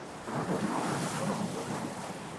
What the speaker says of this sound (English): we got 3 class 3 rapids